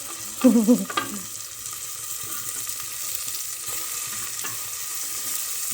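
Tomato is added to hot tempering and stirred, opening with a brief loud clattering burst, then settling into a soft, even sizzle with a few faint scrapes nearby.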